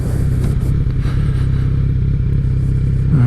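A Harley-Davidson motorcycle engine rumbles steadily nearby, loud and continuous, with a slight rev near the end.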